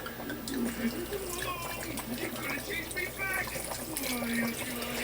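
White wine pours steadily into a pan with a bright splashing trickle, close by, while a voice talks over it.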